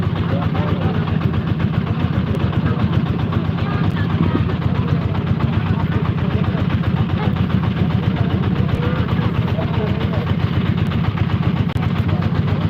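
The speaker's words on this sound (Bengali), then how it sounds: "যে জোরে জোরে নৌকা যাচ্ছে" A boat engine on the Brahmaputra River drones loudly and steadily throughout, a constant low rumble with no pauses.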